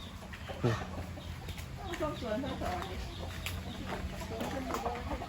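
Fighting cocks cluck and call repeatedly at a Thai farmyard home, short bursts scattered over a noisy outdoor background with voices talking nearby.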